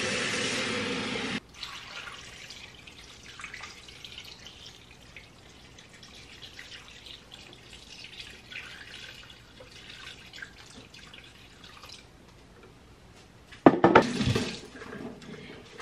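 Water pours into a cooking pot holding garlic, onions and ginger for a pares stew, a brief splashing rush at the start followed by faint dripping and kitchen clatter, then another louder splash near the end.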